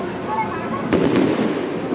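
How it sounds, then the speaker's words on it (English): Fireworks finale bursting over a Chinese theme park, Guangzhou Sunac Land, a cluster of loud booms and crackles near the middle amid steady crowd noise and people talking. "Look at that big fireworks finale."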